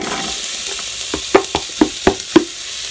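Chopped onions, two of them, stirred in a little olive oil in a 6-quart Cosori pressure cooker pot, soft sizzle underneath a series of crisp scraping stir strokes in a steady rhythm, close and clear with no voices.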